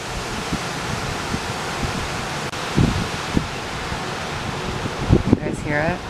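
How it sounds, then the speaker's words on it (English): Steady wind blows outside on a chilly day, a constant broad rushing that fills the background with a few gusty swells and faint bumps, and a voice briefly heard near the end. "You can hear the wind."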